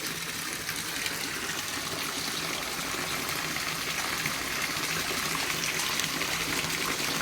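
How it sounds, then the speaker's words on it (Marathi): Rainwater pours off a tin roof in a steady, dense rushing splash, loud and unbroken the whole time, with no talk over it. "डोंगरातून पाणी कसं खाली येतं तसं पाणी पडत आहे पत्र्यावरून"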